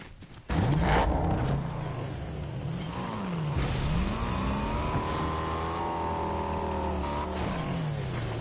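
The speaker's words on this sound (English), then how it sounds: "let me get in the car here and pull back a bit" A car in the Fortnite video game starts with a sudden engine roar, then drives with a steady, rising and falling motor hum and shifting pitch throughout.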